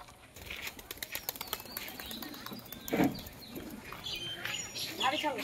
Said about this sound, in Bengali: ওইদিকে একটা সাদা পায়রা উঠছে